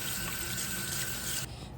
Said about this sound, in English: just rinsing it with water until all of that stabilizer has dissolved.